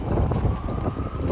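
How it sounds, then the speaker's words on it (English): Wind gusts steadily into the microphone outdoors at the Lexington Comic & Toy Con, a loud, continuous low buffeting roar with no talk. "It's a bit breezy"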